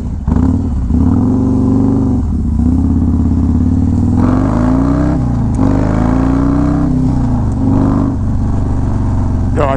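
A Harley-Davidson Road Glide with a 107 engine and Star Racing 3030 cam being ridden, a loud, close, continuous engine drone rising and falling through gear changes and throttle pulls.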